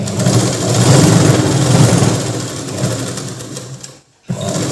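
A sewing machine runs steadily while stitching palazzo pants, its loud close whir holding for about four seconds before a brief stop and restart.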